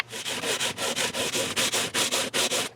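Fret file or leveling block rubbed back and forth along the frets of a guitar neck for a partscaster build, a steady rasping scrape repeating in about a dozen even strokes, close and alone.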